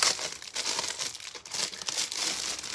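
Plastic packaging crinkles and crackles up close in quick irregular bursts as it is handled, with bright rustling textures and no talking.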